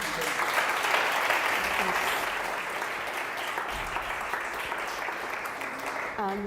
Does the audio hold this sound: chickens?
no